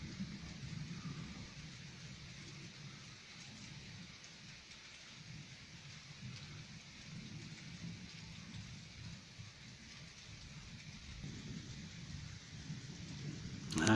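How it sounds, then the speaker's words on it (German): A night thunderstorm approaches slowly near Berlin, bringing steady rain with a faint, distant rumble of thunder. The sound stays soft and continuous for about fourteen seconds and swells slightly at the end. "Das Gewitter kommt sehr, sehr langsam von Süden nach Nord voran."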